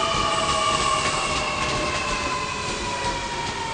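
An M set suburban train rolls into Central station, a steady rumbling of wheels on rail with high squealing tones and faint clicking joints, loud and close without voices.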